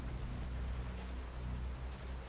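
Steady heavy rain pours at night outside an old temple gate in a spoken ghost story, a dense, constant wash with a low rumbling undertone of thunder and no voice over it.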